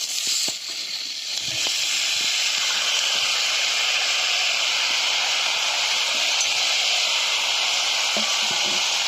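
Pieces of taro (kochu) hit hot oil already seasoned with cumin, turmeric and salt, setting off a loud, steady sizzling hiss that holds unbroken for the whole stretch, with a few faint clinks underneath.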